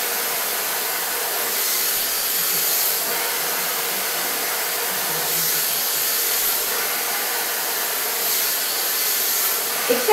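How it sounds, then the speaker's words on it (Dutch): A hair dryer blows steadily and loudly during a hair-styling session, a continuous broadband whoosh lasting throughout with slight swells in airflow, no talk over it. "Want ik denk, praten en föhnen tegelijk, dat gaat niet lekker."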